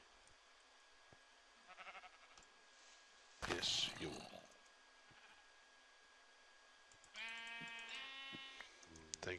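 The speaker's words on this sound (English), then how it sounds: "at the moment we're after sheep" Sheep bleating in the Minecraft video game, a few short wavering bleats near the end, with a brief voice and a loud burst of other game noise earlier.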